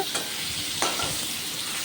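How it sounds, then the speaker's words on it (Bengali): Steady sizzling of pointed gourd (potol) pieces frying in a pan, with spatula stirring and scraping sounds close up, no talking. "সেইভাবে ঘুরিয়ে ফিরিয়ে পটলগুলি ভেজে নেব"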